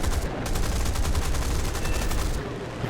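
Rapid machine gun fire from a Spitfire LF Mk IX fighter in War Thunder arcade combat: a dense, continuous burst of rattling shots, loud and close, stopping near the end.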